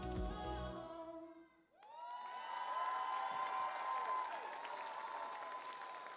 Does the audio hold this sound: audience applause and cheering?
yes